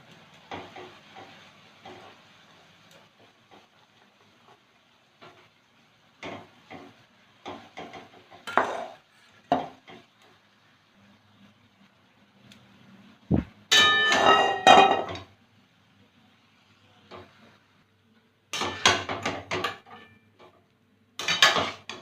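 Water splashes into a hot pan, then noodles for vegetarian chowmein go in, with sizzling bursts and scraping clatter of a utensil against the pan, louder toward the end after quieter stretches.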